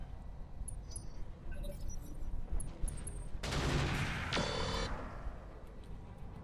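Gunfire strikes mechs in the Roguetech video game, a loud, dense burst of rapid impacts lasting about a second and a half, set against a busy background of clinks and rumble.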